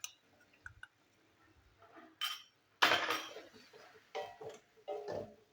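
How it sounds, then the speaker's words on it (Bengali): Ground coriander, cumin, turmeric and chili powder frying in a pan while being stirred for chola dal: soft clinks of utensil on metal and short scraping sizzles in irregular bursts, close but fairly quiet. "তো মশলাটাও আমি এখন ভালো করে কষিয়ে নেবো।"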